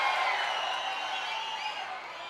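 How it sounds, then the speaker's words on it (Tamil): A large crowd cheers at a political rally in Neyveli, a steady, wide roar of voices that holds at an even level and fades only slightly over a couple of seconds. "இங்கே குழுமைக்கின்ற மக்கள் ஆரவாரம்"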